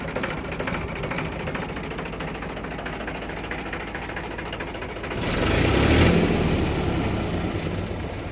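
A Mahindra 295 Super Turbo tractor engine runs at a steady, close, rattling idle and revs up louder for a few seconds partway through before settling back.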